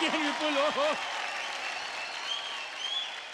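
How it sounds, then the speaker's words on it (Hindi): Studio audience applause on a televised dance competition show, a steady wash of clapping that begins under a voice and carries on alone at moderate loudness. "जोरदार तालियां"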